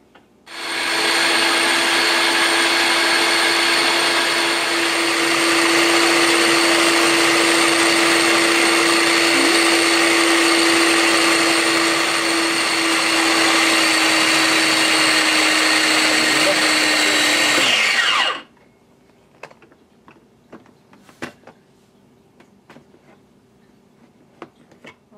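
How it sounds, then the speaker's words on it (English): Blender or food processor whipping cream into homemade butter, a loud, steady high-speed motor whir running for about eighteen seconds before winding down abruptly, followed by faint clicks and small knocks. "In a blender or a food processor, it'll take anywhere between 5 minutes and half an hour"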